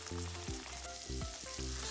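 Chicken pieces sizzle and crackle steadily in a hot pan as their water cooks off, a dense frying hiss with no voices.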